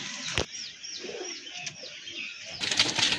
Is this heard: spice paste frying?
no